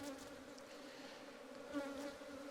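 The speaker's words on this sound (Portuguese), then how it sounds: "mas eu vou alimentar essas abelhas" Honey bees buzz in an opened hive during feeding after a frame is pulled out, a dense, steady, close hum with small swells and no talk.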